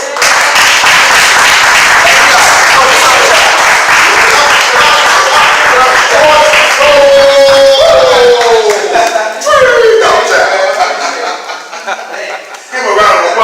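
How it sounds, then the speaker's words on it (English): An audience claps for a spoken-word poet at a poetry event, a dense round of applause with some chuckling, then a voice talks over the clapping as it thins and fades toward the end. "Give him a round of applause."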